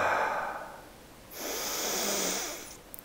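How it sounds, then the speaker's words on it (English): Deep breaths drawn in through the nose and let out, slow, close and breathy, a long airy inhale followed by a quieter exhale with no talking. "3 deep breaths. Inhale through the nose."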